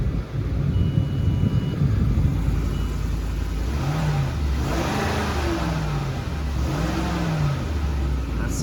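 Engine of a 2008 Lincoln Navigator runs steadily close by, then is revved in a couple of rising and falling swells over a constant idle rumble.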